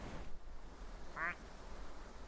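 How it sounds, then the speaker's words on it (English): A single short duck quack sounds inside The Sims, brief and fairly clear over a low, steady game ambience, with no talk. "There's a duck over there."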